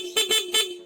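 A car's stock horn honks three short times in quick succession, loud and close, a flat buzzy tone.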